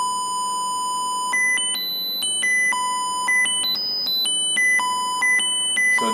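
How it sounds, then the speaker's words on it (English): Square-wave test tones from an RF signal generator, a series of steady electronic beeps stepping between pitches in an irregular rhythm, each tone rich in buzzy harmonics, fairly loud over a low background hiss with no talking. "Now I'm going to go to square wave."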